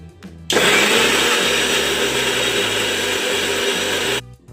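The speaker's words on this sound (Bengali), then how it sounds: "এখন আমি এই কাটা সবজিগুলোকে দিয়ে এখন আর একবার মিক্সিতে ঘুরিয়ে নেব" A mixer grinder whirs loudly and steadily as it blends chopped vegetables into a paste, running alone for about four seconds before cutting off abruptly.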